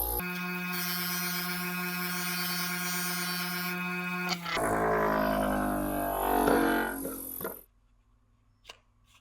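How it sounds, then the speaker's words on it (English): A bench grinder spins a deburring wheel against a precisely cut steel edge, giving a steady loud whine that shifts to a rougher, broader grinding roar as the metal is pressed in, then stops abruptly, leaving near silence. "You can see how I'm basically polishing this edge as I'm grinding it."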